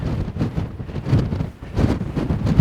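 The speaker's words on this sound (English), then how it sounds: "It's just too windy." Strong gusts of wind roar across a mountain ridge on Grapevine Mountain in Anza Borrego Desert State Park, buffeting the microphone in loud, uneven surges.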